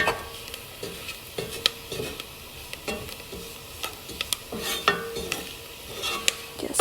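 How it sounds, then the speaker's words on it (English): A spoon scrapes and clinks around a pot as flour is stirred into broccoli cheese soup, irregular knocks and scrapes over a faint simmer, close and moderately loud, no voices. "Just stir all of them."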